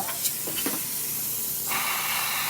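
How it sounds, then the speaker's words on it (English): Steam wand on a Crossland coffee machine hissing during a test, a few short puffs followed by a strong, steady spray of steam close by. "Now that the machine is ready, I'm gonna test the steamer out."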